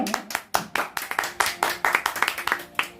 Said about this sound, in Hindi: इसके लिए मैं जोरदार तालियों से इनका स्वागत करता हूं।